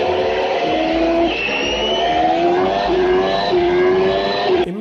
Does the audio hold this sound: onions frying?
no